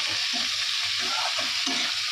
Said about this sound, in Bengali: এখানে আমার সব রকম সবজি ভাজা হচ্ছে